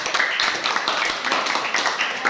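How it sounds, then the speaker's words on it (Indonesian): A small group in a classroom claps briefly in a dense, scattered patter of applause, close and fairly loud. "Oke, tepuk tangan dulu untuk kelompok."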